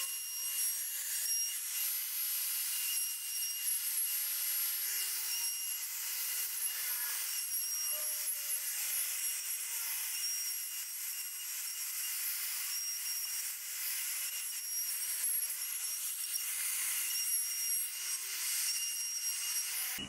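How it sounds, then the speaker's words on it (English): A Makita 40V cordless router in a plunge base cuts into wood with a steady, high-pitched whine that holds unbroken for about twenty seconds, close and loud, with no talking. "let's chuck it in the plunge base and do some cuts."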